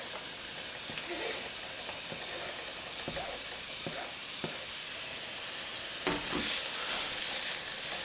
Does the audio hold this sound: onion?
yes